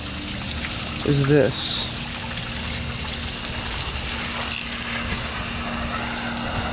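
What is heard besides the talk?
water gushing from a busted garden hose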